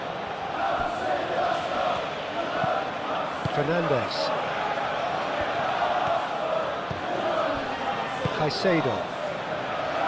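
Stadium crowd in an eFootball PES 21 Arsenal versus Chelsea match, a steady roar and murmur filling the whole stretch while a commentator calls out player names over it.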